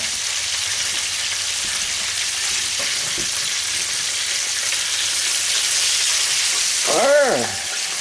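Pieces of fried chicken sizzle and crackle steadily in a pan of hot oil, a loud continuous frying hiss throughout, with a brief swell of bubbling near the end.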